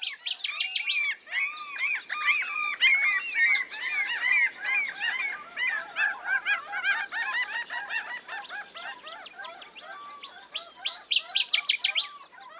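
A dense chorus of migrating waterbirds and shorebirds gathered at their Yukon Delta breeding grounds in subarctic spring, with overlapping honks, chirps and calls from many birds near and far that swell into a louder burst toward the end.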